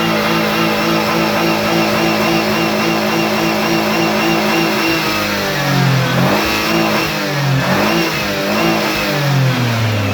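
A car motor revved hard and steadily with loud, rough exhaust, its pitch swinging up and down through repeated throttle blips. The sound is close and continuous for about ten seconds, with no talking.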